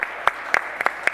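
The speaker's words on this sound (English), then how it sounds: "They're clapping Melissa's brilliant exposition of the Parthenon Project's aims" Guests at a government roundtable opening gala dinner applaud, a steady hiss of clapping with a few sharper hand claps standing out every quarter second or so.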